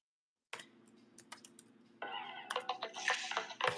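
Typing on a computer keyboard, quick irregular clicks close by, sparse at first and then a denser, louder burst of keystrokes over a low steady hum.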